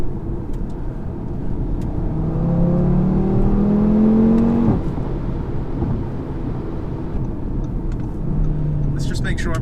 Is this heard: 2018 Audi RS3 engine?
yes